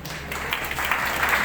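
Brief burst of audience clapping at a college commencement, moderately loud and continuous, rising slightly toward the end.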